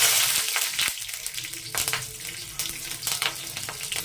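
Whole dried chillies, bay leaves and green chillies sizzle in hot oil for a shukto recipe, a loud close crackle that opens strongly and then continues with sharp spits and pops.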